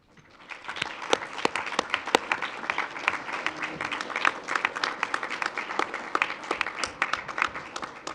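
An audience at a school board meeting applauds in a steady burst of clapping that builds quickly and holds for several seconds, a moderate-sized crowd heard from inside the room.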